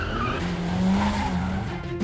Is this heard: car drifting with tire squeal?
yes